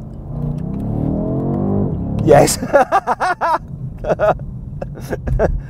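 A BMW 850i accelerates hard in sport mode with its gearbox in manual: the engine note climbs steadily, then a sharp shift gives way to a series of rapid revving pulses, loud and close, while a driver talks and laughs over it.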